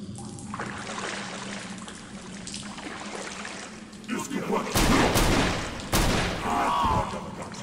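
Gunfire in the first-person game CountryCide sounds as a few loud sharp blasts in the second half over a steady rumbling backdrop, with a voice talking underneath.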